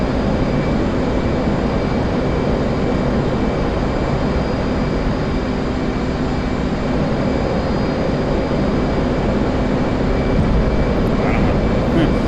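F/A-18 Hornet jet engine in the DCS flight video game: a steady, loud roar runs the whole time without letting up, with a voice speaking over it.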